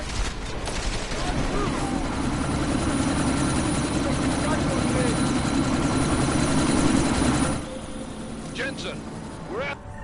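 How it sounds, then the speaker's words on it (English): A helicopter in a video game spinning up for takeoff, a loud continuous rotor and engine drone that holds steady then drops off sharply near the end, with scattered gunfire-like pops. "That chopper's about to take off."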